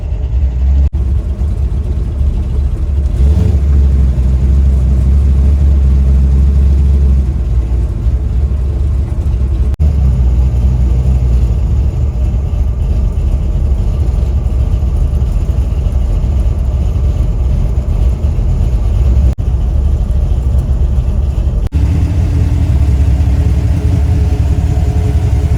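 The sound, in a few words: hot rod car engines idling and revving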